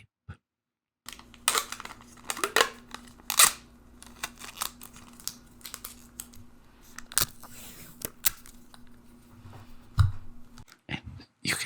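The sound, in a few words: masking tape being handled and torn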